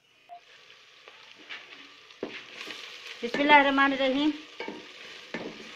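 Chopped onion sizzling in a hot pan while being stirred, with soft frying crackle and scraping strokes that build in the middle; a voice speaks briefly over it.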